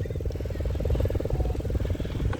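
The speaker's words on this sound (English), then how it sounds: "You got helicopter rides." A helicopter flies over Miami Beach, its steady rotor chop and engine drone loud and continuous for a couple of seconds, heard from the ground nearby.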